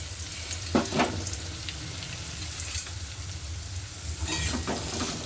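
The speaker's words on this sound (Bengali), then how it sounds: "আমি এঁচড়গুলোকে একটু ভেজে নিচ্ছি" Young jackfruit pieces fry in hot oil for a Bengali jackfruit-and-prawn dish, giving a steady close sizzle with a few sharp crackles and stirring knocks.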